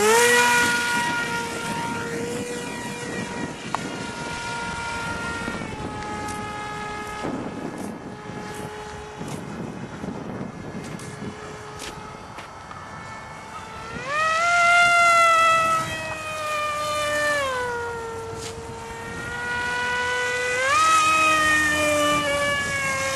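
An electric RC EPP foam model F-117 with a big motor flies overhead, its high whining motor note rising and falling in pitch as it passes and climbs, with steady airy hiss throughout and no talk.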